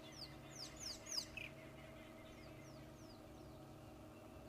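A small brown bird calls from a treetop on a morning safari drive: a burst of sharp descending chirps up close, then fainter repeated notes, over a low background hum.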